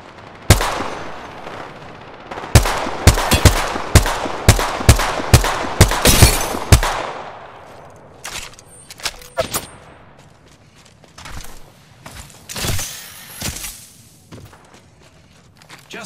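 Gunfire in Apex Legends: a fast run of sharp, loud shots for several seconds, then scattered single shots and impacts over softer background game sounds.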